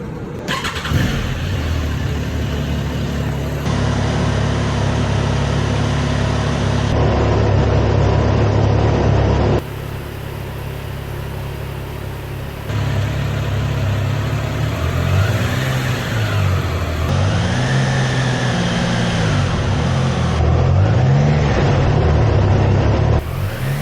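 A car engine idles and revs repeatedly, rising and falling in pitch, close and loud throughout with brief changes in recording tone.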